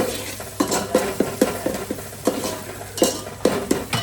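Red chili powder and coriander-cumin powder are stirred into cooked onions and tomatoes in a pan, a utensil scraping and clinking against the metal in a steady rhythm over a faint sizzle.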